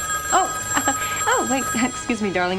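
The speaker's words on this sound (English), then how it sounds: "that's the phone" Old telephone bell rings in a 1977 film, insistent ringing partly under a voice speaking.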